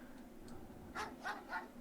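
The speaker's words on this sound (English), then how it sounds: "I'm being attacked by a dog" Three quick, faint barks from a dog in Mega Man Legends in a row over a low steady hum, sounding somewhat distant.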